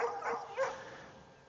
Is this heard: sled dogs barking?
yes